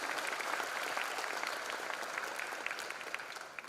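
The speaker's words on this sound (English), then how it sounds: "A big applause, ladies and gentlemen" Applause from the crowd at a freshers' induction programme honours a senior advocate, many hands clapping in a dense steady patter that gradually thins and tapers toward the end.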